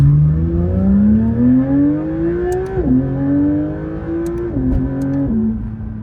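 A Porsche 992 GT3 RS with an aftermarket JCR catback exhaust revs up loudly through a throaty exhaust, pitch climbing steadily, dropping briefly, then rising again in several close, sustained pulls.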